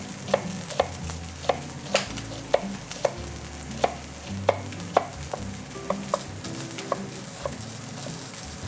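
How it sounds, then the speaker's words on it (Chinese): A knife chops half an onion into small dice on a cutting board, a steady run of crisp, evenly spaced taps over faint background music. "切成洋葱丁"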